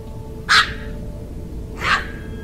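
Two Shih Tzu dogs bark indoors at the far corner of a storeroom near a living-room sofa, two short sharp barks about a second apart over a steady background hum.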